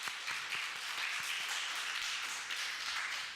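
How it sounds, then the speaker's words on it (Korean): A church congregation claps during a Sunday service to welcome newcomers. The clapping is steady and evenly spread, faint and slightly distant, and no one talks over it. "네, 박수로 환영하겠습니다."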